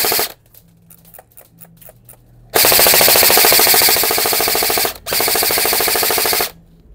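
A G&G FF16 blowback airsoft gun fires full auto in two loud, rapid bursts with a brief break between, after a few lighter mechanical clicks from handling the gun.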